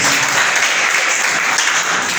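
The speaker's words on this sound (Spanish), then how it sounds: "¿Cuánto le dan un aplauso al Señor?" Church congregation applauding during a Spanish-language sermon, a dense, continuous wash of many hands clapping, loud and close, with no speech over it.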